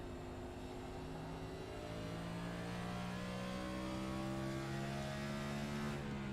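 A NASCAR Next Gen car engine in the iRacing sim game at Richmond Raceway holds a steady high drone with rising and falling harmonic tones, loud and continuous, as the car stays in 4th gear.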